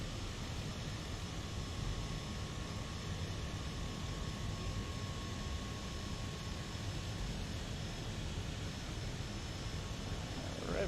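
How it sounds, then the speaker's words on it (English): Aircraft engines in Microsoft Flight Simulator 2020 roll for takeoff on a Montana runway, a steady broadband roar with a faint whine holding throughout at moderate level, no talking over it. "Ready to take off from this fantastic runway."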